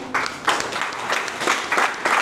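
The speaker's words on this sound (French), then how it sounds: "Félicitations, on applaudit pour chacun." An audience applauds the participants in a short burst of scattered clapping, loose and uneven, with a few louder pulses among the hands.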